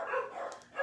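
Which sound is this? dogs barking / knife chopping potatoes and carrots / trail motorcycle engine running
dogs barking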